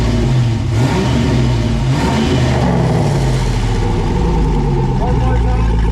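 An LS-swapped Toyota FJ62 with a new exhaust and QTP cutout revs in a shop, a loud, steady, deep engine drone running the full length with slight swells.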